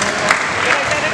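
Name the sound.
audience applause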